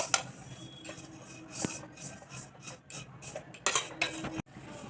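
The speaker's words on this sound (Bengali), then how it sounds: "গ্যাসের আঁচটা একদম কমিয়ে এটা ভাজতে হবে" Vermicelli (semai) frying in ghee in a pan over very low heat, heard as soft scraping and stirring clatter with a few sharper clinks of utensil against pan, close by.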